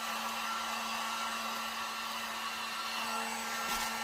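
A heat tool blows steadily to shrink plastic wrap around a gift basket, a continuous loud whooshing hum with a faint tonal whine and no talking.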